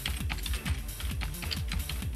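A terminal command is typed on a computer keyboard for a Raspberry Pi setup, a quick steady run of close clicking keystrokes without any voice.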